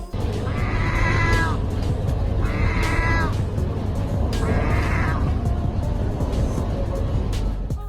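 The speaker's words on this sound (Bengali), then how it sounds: "ক্যামেরায় ধরা পড়ে দুটো সিগাল খাবার পাওয়ার জন্য ভেন্ডিং মেশিনের সামনে এসে বিড়ালের মতো মিয়াও করছে" Three drawn-out, cat-like mewing calls from two seagulls begging for food at a vending machine, evenly spaced, rise above a constant loud background hum and rumble.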